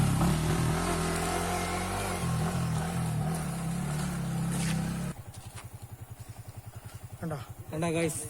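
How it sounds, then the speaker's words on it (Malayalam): A motorcycle climbs an off-road trail at Kaalimala, its engine droning loudly and then breaking into a rapid chugging pulse with sharp revs near the end, while people talk over it. "അജുവാണ് ബൈക്ക് ഓടിക്കുന്നത്."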